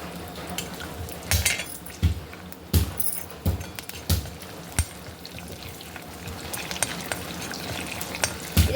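About ten to fifteen garlic cloves sizzle in a tablespoon of hot oil with mustard seeds for a tempering, a steady close crackle punctuated by sharp clinks of a spoon against the pan.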